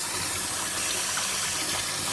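Hot water runs into a kitchen sink drain during a drain line repair, a steady, dense rushing gush of water that stays constant and close throughout, with no talk over it.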